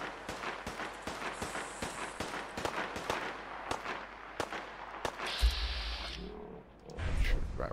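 Gunfire in the Fallout 4 video game, a string of sharp cracking shots at an uneven, quickening pace, moderately loud, followed by a dull thud and rumble near the end.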